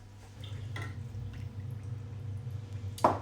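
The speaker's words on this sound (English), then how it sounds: "then I'm going to just do another half of water" Water is poured into a pan of coconut milk, a faint liquid trickle and splashes over a low steady hum, with a brief louder splash near the end.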